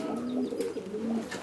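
A male high-flying pigeon coos softly while being held in the hand, giving a brief, close, low burbling call.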